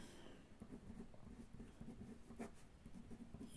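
A maths formula being handwritten, setting the perimeter of a circle equal to that of a square: soft, steady scratching of pen strokes, faint and close, with no voices.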